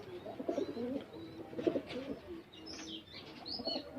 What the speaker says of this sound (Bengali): এই যে এখানে একজোড়া কবুতর আছে এখানে